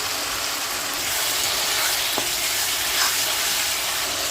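Ground spice paste, added after ginger paste and bay leaves, fries in hot oil alongside already-fried potatoes in a pan, giving a steady, close sizzle with a brief scrape of stirring partway through.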